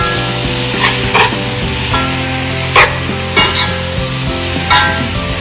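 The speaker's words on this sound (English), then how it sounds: "Let's go ahead and stir it up." Cabbage seasoned with black pepper and onion powder sizzles steadily in a hot pan while a utensil stirs it, with a few louder scraping clacks against the pan over a constant frying hiss.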